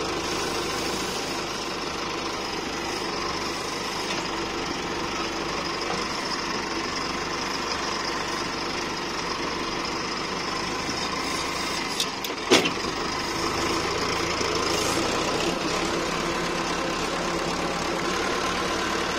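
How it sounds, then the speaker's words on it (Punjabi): John Deere tractor fitted with a new silencer idles steadily and close for the whole stretch, a constant even engine rumble with one brief knock partway through and no talking. "ਆਪਾਂ ਸਲੰਸਰ ਚੇਂਜ ਕਰਤਾ ਸੀ ਟਰੈਕਟਰ ਦਾ"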